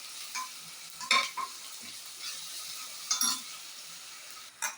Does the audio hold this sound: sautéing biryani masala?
yes